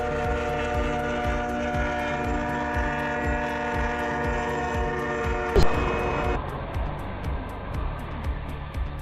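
A train rumbles past steadily with rhythmic clacking from the cars, then a sharp bang and the noise thins out to a lower rumble.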